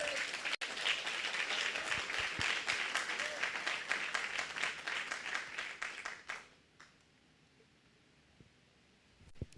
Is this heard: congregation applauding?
yes